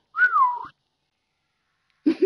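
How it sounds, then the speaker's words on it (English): A person whistles one clear, sliding note lasting about half a second, followed by silence and then a brief burst of voice at the end. "I can hear my whistle go again"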